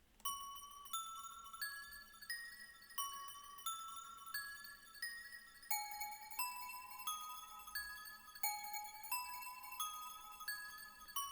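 A basic melody built from a one-shot kit in FL Studio, made of clear bell-like tones in a slow stepping line with each note ringing briefly, soft and alone.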